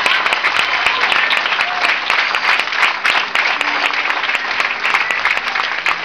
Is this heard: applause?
yes